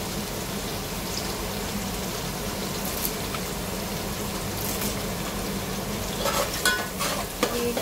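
Curry leaves hitting finely chopped onions frying in hot oil for mushroom pulao, a steady close sizzle that flares into sharper crackling spurts near the end, with no voices.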